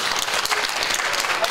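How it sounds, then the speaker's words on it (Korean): Applause for company president Park Seung-cheol at a newspaper founding-anniversary year-end arts festival in Sejong, a dense crowd clapping steadily and evenly for the whole short stretch. "우리 박승철 사장님을 위하여서 다시 한번 성원의 박수 부탁드립니다"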